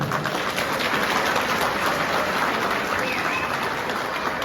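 Steady applause from diners at a party thank-you dinner in Tuzla, continuous and moderately loud, a dense crowd of clapping hands with some faint voices beneath.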